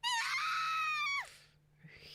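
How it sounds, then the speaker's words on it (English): A single high, sustained scream of a girl from the Higurashi visual novel game rings out loudly for over a second, then breaks off abruptly, followed by quiet background. "There's gonna be a scream"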